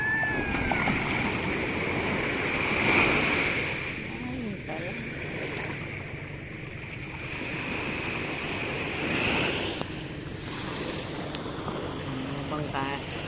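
Ocean waves roll onto a beach with a broad, airy wash that swells and recedes, mixed with wind buffeting the microphone; a high whistling tone and faint voices sit in the background.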